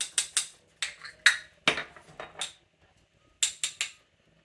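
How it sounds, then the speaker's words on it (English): A wire whisk stirs flour, baking soda, baking powder, salt, pepper and cayenne together in a bowl for quick cheese bread. It makes a series of close, sharp scraping clicks in irregular bursts, with a brief quiet gap before a final few strokes. "with a whisk, whisk the flour, the baking soda, the baking powder, salt, pepper, and cayenne"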